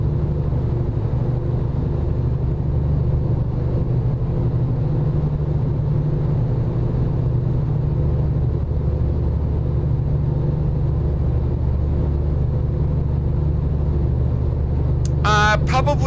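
Steady low diesel rumble of a Cummins-powered truck cruising in American Truck Simulator, a continuous engine drone held at constant loudness with a brief burst of another noise near the end.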